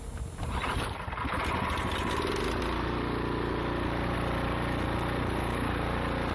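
A Cub Cadet snowblower engine starts after a second or two of rustling, then settles into a steady, loud, close mechanical drone that holds at an even pitch.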